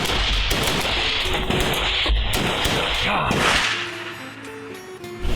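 A shotgun fired during a duck hunt in Arkansas, with several loud sharp reports in the first few seconds and a dog or hunters nearby, the shots fading into quieter outdoor ambience.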